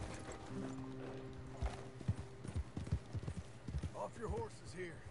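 Horse hooves clip-clop steadily on the ground in Red Dead Redemption 2, with a brief neigh and game sounds, while voices talk over the top.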